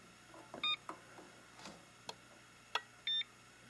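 An ESR meter tests capacitors on a Stargate arcade machine, giving several short, sharp electronic beeps separated by faint clicks and handling noise in a quiet room.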